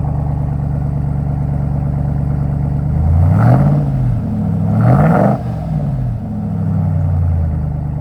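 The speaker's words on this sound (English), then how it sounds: "Give it a little rev." A Hellcat-powered RAM TRX with a Vibrant resonator exhaust rumbles loudly at idle, then rises twice in short revs before settling back to a deep, steady idle, recorded up close with no talking.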